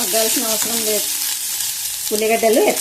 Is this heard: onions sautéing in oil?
yes